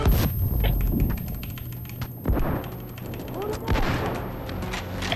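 Shotgun blasts in Payday 2 (Big Bank heist), an automatic shotgun fired in a rapid string of sharp, loud reports over continuous game noise, with players talking throughout.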